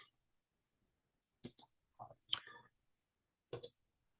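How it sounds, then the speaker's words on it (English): A computer mouse is clicked in a quiet room, a few crisp isolated clicks spaced over a few seconds, close and soft, with faint breathy voice sounds between them. "to empty the recycle bin, I would right click and go empty"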